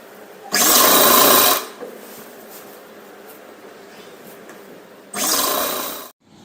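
Sewing machine stitching the side seam at the waist of a lined partywear lehenga made from an old saree, heard as two bursts of steady, close whirring separated by a long quiet pause.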